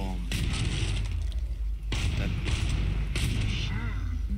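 Several sharp gunshots crack out in Killing Floor 2, spaced a second or so apart, with a rumbling background between them.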